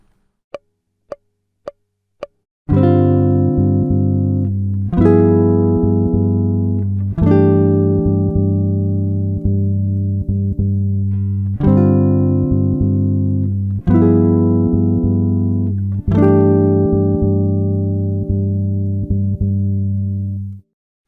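A jazz guitar plays a 2-5-1 progression using a diminished-type chord, opening with four soft muted ticks, then a series of ringing chord stabs that sustain and overlap, close and fairly loud, with no talking.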